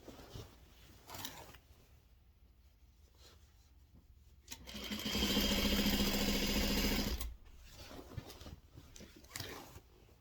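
A home sewing machine runs steadily for about two and a half seconds, stitching binding onto a quilt, with quieter handling and shuffling sounds before and after the burst.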